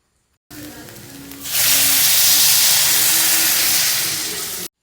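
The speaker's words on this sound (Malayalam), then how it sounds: "അതിലേക്ക് കൂൻ വേവാൻ ആവശ്യത്തിനുള്ള വെള്ളം ചേർത്ത് കൊടുക്കാം" Water hits a hot pan of cooking mushrooms with a sudden loud hiss that swells into a steady, fizzing sizzle and slowly eases off.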